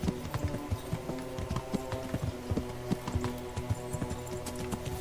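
Horse hooves clip-clop steadily in a quiet medieval setting in Kingdom Come: Deliverance, a close, fairly soft walking rhythm of repeated hoof strikes with no talk over it.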